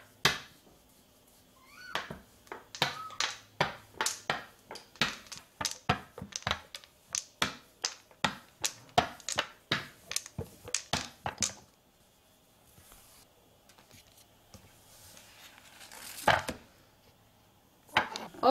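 A light silicone rolling pin working flour tortilla dough on a counter, giving a rapid run of close, crisp taps and knocks in a steady rhythm that then fades to quieter, scattered handling sounds.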